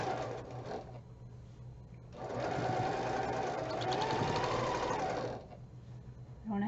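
A sewing machine stitches quilt block seams slowly, a close mechanical whir in two runs, a shorter one, then a longer sustained run, with quiet pauses between.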